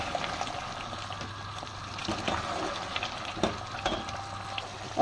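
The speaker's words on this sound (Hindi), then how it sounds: "इसको मैं अच्छे से भूनूँगी।" Mutter gosht cooking in oil in a pan, the meat and peas frying as the liquid dries off: a continuous close sizzle and crackle with scattered stirring scrapes and clinks.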